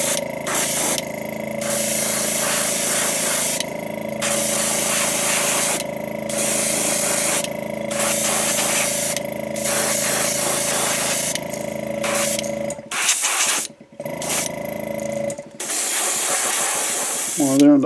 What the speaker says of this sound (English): the first thing we're going to do is get on our base coat of white